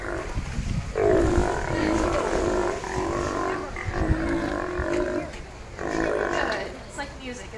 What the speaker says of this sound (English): I'll show you what Mara's vocalization sounds like